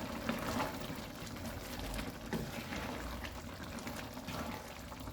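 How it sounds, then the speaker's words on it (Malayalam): Boiled water is poured into a pot of cooking beef curry, a continuous splashing, trickling stream heard close up for several seconds without talk. "വെന്തെല്ലാം കഴിഞ്ഞ് തിളപ്പിച്ച വെള്ളം ഒഴിച്ചു കൊടുക്കുക"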